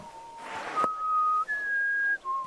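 Clear, close whistling of a few sustained notes in the medieval role-playing game Kingdom Come: Deliverance II, rising and then dropping, with a short burst of rustling noise early on.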